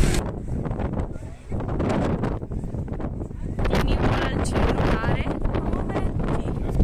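Strong gusts at Europa Point, Gibraltar, on the coast by the sea, batter the microphone in a loud, continuous roar that rumbles low and never lets up.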